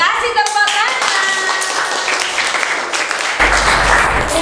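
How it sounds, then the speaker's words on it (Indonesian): Clapping from a primary school classroom for the kaktus group after their work, a short burst of applause from the children mixed with chatter and background voices. "Kasih tepuk tangan."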